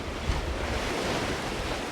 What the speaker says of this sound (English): just cruising down these waves